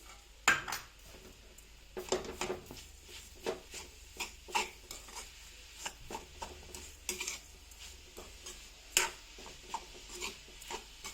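Sugar is stirred with a spoon into carrot halwa in a pan, producing intermittent scraping and tapping strokes, close and fairly quiet, with irregular rhythm.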